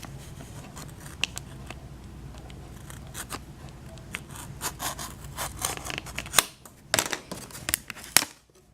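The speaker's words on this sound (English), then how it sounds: "I'm just going to go over that a little it with my knife." A knife scoring along a line on the back of a mirror, with soft repeated scraping strokes close by that grow louder toward the end, ending in several sharp cracking snaps.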